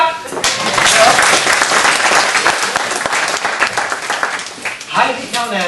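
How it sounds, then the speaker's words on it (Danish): A magic show audience bursts into loud, dense applause that fills about six seconds without a break, with voices mixed in and the clapping thinning slightly toward the end. "Kom så, klap!"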